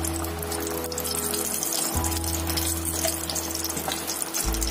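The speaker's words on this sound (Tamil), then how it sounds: "3 டேபிள் ஸ்பூன் எண்ணெய் ஊத்துங்க." Oil poured into a pan for masala popcorn gives a steady liquid trickle over a low kitchen hum, close and continuous with no talking.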